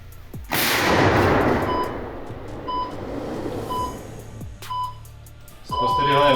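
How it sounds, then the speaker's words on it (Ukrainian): A 105 mm artillery gun fires: a heavy boom erupts and rolls out over several seconds, while regular electronic beeps sound throughout and a second sharp burst hits near the end. "Готові, постріл!"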